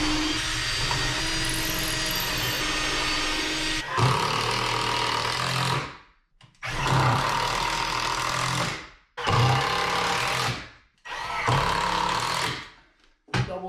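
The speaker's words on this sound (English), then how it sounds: "I'm going to drill 3 more screws here" Power drill driving screws into a wall while saloon doors are hung, loud close whirring bursts in four long runs separated by brief pauses.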